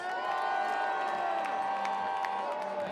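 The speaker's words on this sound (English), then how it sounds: "Cheer if you think he does." A baseball crowd at a Portland Pickles versus Kamloops NorthPaws game cheers and whoops loudly for the whole moment, a dense roar of voices with scattered shouts.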